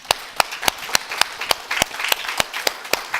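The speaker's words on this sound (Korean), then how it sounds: "하나님께 영광의 박수 부탁합니다" Church congregation clapping during a Korean sermon, a rhythmic run of sharp, loud claps in unison, roughly three per second, with a softer scatter of applause between beats.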